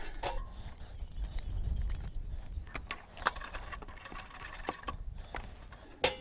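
Small Scotty camp stove being unscrewed by hand, scattered metallic clinks, scrapes and clicks at close range, with sharp ticks near the start and end.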